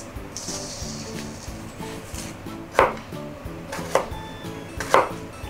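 A knife chops garlic on a cutting board in quick, steady taps, interrupted by three louder knocks, close up in a home kitchen.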